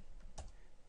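A few keystrokes tapped on a computer keyboard while typing code in a scripting tutorial, a brief cluster of clicks in quiet surroundings.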